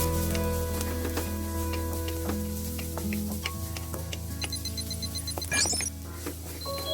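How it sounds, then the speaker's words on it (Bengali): Chopped onions lightly frying in a pan for a village-style cabbage bharta give a continuous sizzle, with ticking clicks and a steady low hum underneath and a brief sharp scrape near the end. "পেঁয়াজটাকে হালকা করে একটু ভেজে নিব।"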